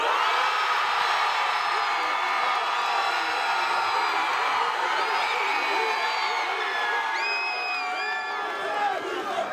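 A large crowd cheers and whoops loudly for a DJ at a campus DJ battle event, with sustained dense shouting and high voices throughout and no pause in the noise.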